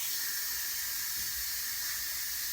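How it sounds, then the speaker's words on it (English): Steam vents from a pressure cooker after cooking applesauce, a steady loud hiss of escaping steam that carries through the whole stretch without pause or talk. "So we'll give that a second to let the steam out."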